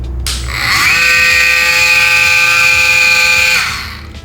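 An Ozito 18V multi-function oscillating tool runs at its lowest speed, a steady high buzzing whine that ramps up, holds evenly for about three seconds, then winds down, close and loud with no talking.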